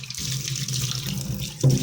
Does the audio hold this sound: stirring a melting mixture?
no